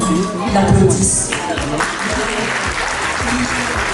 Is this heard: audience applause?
yes